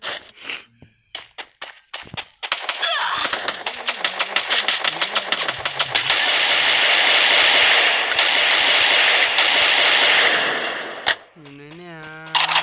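Gunfire in the mobile game Free Fire: sparse single shots at first, then long rapid automatic bursts rattling for several seconds, with a player's voice talking briefly at the end.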